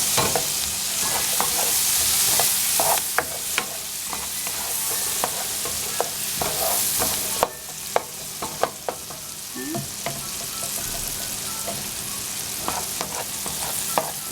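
Butter sizzles steadily in a pot as the base for Filipino chicken sopas, with a spoon scraping and clinking through the fry at irregular intervals, close and continuous with no talk.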